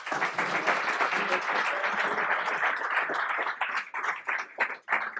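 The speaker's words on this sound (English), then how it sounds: "So round of applause for Jessica." Audience applause fills a conference talk at SwiftConf 2017, a dense, sustained wash of clapping from a full room that thins and breaks up near the end.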